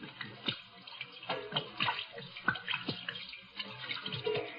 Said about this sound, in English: Hate to waste this good gin washing my hands.